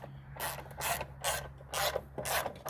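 Bolts on a Tecumseh MTD snowblower's blower cover being run down and tightened with a hand ratchet, producing repeated close rasping ratchet strokes in an uneven rhythm, with no talking.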